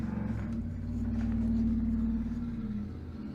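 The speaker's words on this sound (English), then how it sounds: "I got some loud trucks coming through." Loud trucks passing outside, a low engine rumble that swells to a peak mid-pass and then fades, heard from indoors.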